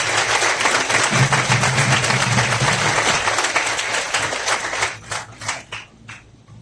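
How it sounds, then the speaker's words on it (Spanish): An audience at a church gathering gives a strong, sustained round of applause that thins out into a few scattered, separate claps at the end. "Un aplauso por favor"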